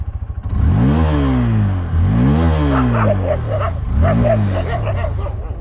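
A Hero Xtreme 160R motorcycle's exhaust rises and falls in three loud, close revs, each climbing sharply in pitch before dropping back, with some faint chirping in the background.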